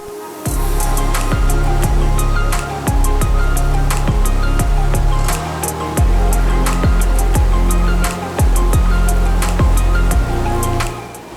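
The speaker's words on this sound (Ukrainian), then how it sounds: "Висота цього водоспаду 60 метрів, і подивіться, як вода лється, наче у повільненому кадрі." A 60-metre waterfall in Iceland thunders in a steady, loud, continuous roar of falling water, full and close without any voices.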